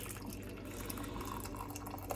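Cedar tea pouring into a cup, a continuous close trickle of liquid with small drips, steady and alone.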